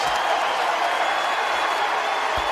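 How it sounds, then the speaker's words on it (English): A basketball arena crowd applauds and cheers during a heated preseason NBA game scuffle, a dense, steady roar of clapping and voices filling the whole stretch. "Crowd on their feet applauding JR's feistiness"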